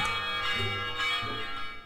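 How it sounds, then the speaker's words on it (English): Wedding bells ring out across a fairy-tale kingdom: sustained, overlapping chiming tones with fresh strikes about every half second, steady and fairly loud, with no voices. "Soon, wedding bells rang out across the land."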